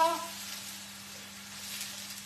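Vegetables with a splash of water sizzle softly in a pan while being stirred, a low steady hiss under a faint hum, with a short scrape at the start.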